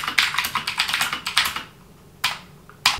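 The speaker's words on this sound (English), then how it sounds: "The keyboard I use is a Keychron Key 2." A Keychron K2 mechanical keyboard is typed on at a college desk setup, with quick bursts of crisp clacky keystrokes, a pause, then a few isolated presses, close and loud.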